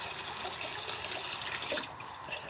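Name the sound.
water filling a container for farm animals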